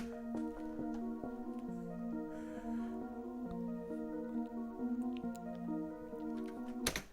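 A keys melody built in FL Studio for a beat, plucked electric-piano notes stepping through a repeating pattern over quiet background, steady and unaccompanied by speech.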